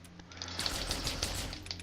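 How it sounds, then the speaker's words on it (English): Rapid automatic gunfire in Halo 3: ODST, a fairly faint, steady stream of shots with a crackling, rattling texture that runs continuously. "the reason why I'm shooting off all my ammo is because I want to start out with grenades"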